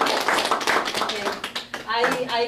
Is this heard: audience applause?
yes